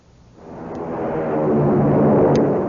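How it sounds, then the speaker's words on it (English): A broad roar swells up from quiet and builds to a sustained, loud rushing drone as an American Airlines airliner powers up for takeoff. "It's the sound of a mighty American Airlines flagship taking off."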